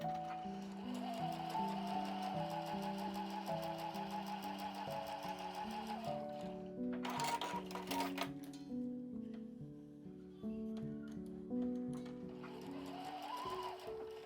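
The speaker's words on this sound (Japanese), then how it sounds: "これが入れ口を縫っているところですよ" A sewing machine stitching the opening of a quilted shoulder bag with an outer pocket, a steady rapid mechanical chatter running for long stretches with a brief pause and restart, heard under soft background music.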